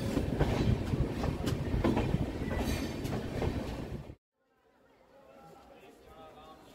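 The Rupasi Bangla Express rolls into Adra Junction with a loud, dense rumble and rhythmic wheel clatter and voices chattering nearby, then cuts abruptly to a much quieter platform hum.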